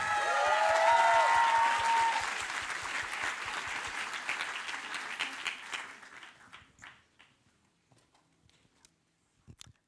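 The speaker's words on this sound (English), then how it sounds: "Keep that wild applause going." Loud, wild applause and cheering from an audience welcoming a main stage speaker at a youth speech event, with a high whoop early on; the clapping stays dense for several seconds, then thins and fades to a few scattered claps.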